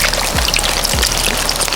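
Spring water is poured over buckwheat in a pot for cooking, a loud, close, continuous splashing stream with a couple of low gurgles, no talk.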